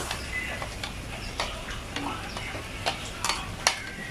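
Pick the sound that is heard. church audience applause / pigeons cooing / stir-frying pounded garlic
stir-frying pounded garlic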